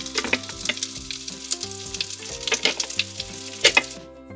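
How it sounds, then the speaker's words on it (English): Toy kitchen bacon gives off a steady, fairly loud electronic frying sizzle with crackly pops throughout, then cuts off abruptly near the end. "Let's make sure to flip our bacon."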